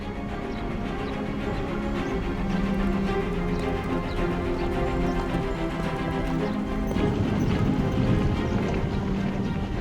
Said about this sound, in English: The enormous herd is driven toward the pens.